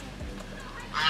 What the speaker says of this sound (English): Here, look at this bird.